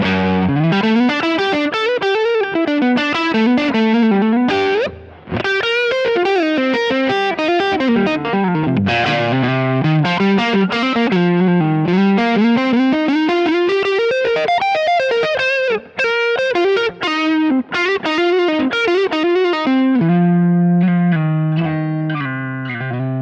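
Electric guitar played through a RYRA Klone distortion pedal, sustained gritty notes and bends in a continuous melodic line, loud and upfront with no voices.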